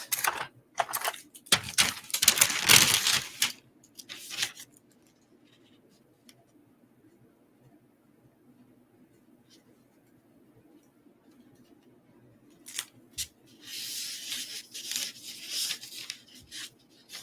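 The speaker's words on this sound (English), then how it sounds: "we're going to put some heat tape on this." Heat tape pulled and pressed onto a sublimation flock fabric patch gives crackly, scratchy tearing and rubbing sounds in two bursts, one early and one near the end, with a quiet stretch between.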